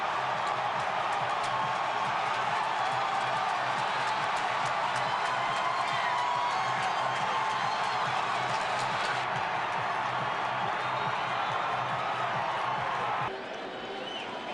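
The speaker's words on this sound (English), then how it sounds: "listen to this crowd. They have gone banana." A packed baseball stadium crowd at a 2011 St. Louis Cardinals game roars after a run scores, with a dense, steady wall of cheering that barely changes throughout.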